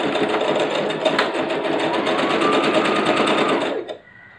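A sewing machine stitches the side seams of a blouse in one steady, fast, close run that stops abruptly near the end, leaving a faint hum.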